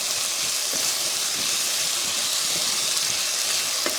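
Pimento spice sautéing in a pan gives a steady, loud sizzling hiss throughout, with a few faint clicks and taps over the constant frying noise and no talking.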